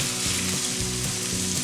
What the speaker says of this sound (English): Now that nice loud sizzle means it's ready.